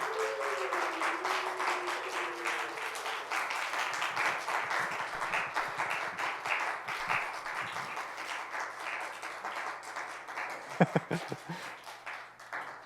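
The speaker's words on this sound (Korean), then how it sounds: "우리 앞으로 나오실 때에 큰 박수로 환영해 주시기 바랍니다." A church congregation at a Sunday young adults' worship service claps to welcome a guest, a dense, sustained applause from a large crowd that carries steadily throughout with a few sharper claps toward the end.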